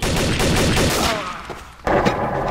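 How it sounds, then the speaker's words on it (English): Rapid automatic gunfire from an M16 in the shooter game Trouble in Terrorist Town, with loud, dense bursts filling the first half, a brief lull, then another close burst of shots. "Why are you shooting me?"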